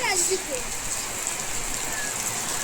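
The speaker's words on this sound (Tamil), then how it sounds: "ஐயோ செம்ம மழை" Heavy rain pours steadily during a drive through the hill station of Valparai, a dense continuous hiss close by, with a voice briefly audible over it.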